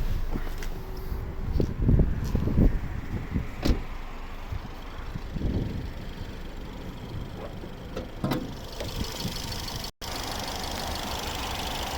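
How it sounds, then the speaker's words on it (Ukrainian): A 2014 Ford Tourneo Connect II with a 1.6 petrol engine and automatic gearbox idles with a steady, low rumble, punctuated by a few close mechanical clicks and thumps, and no talking. "Ось робота двигуна."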